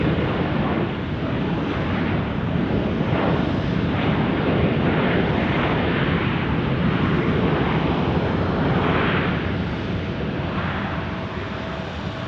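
An Alaska Airlines airliner passes at Tucson airport, heard as a loud, continuous jet roar that swells and rolls steadily through the whole stretch, with no talk over it.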